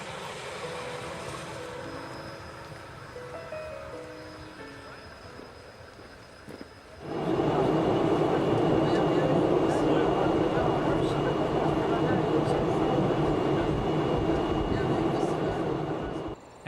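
A long passenger train climbs a grade at the Aikens crossing point in New Zealand. After a quieter stretch it swells into a loud, steady rumble that stays close and dense to the end.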